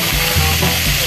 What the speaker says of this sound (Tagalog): Una ay paprito muna natin ito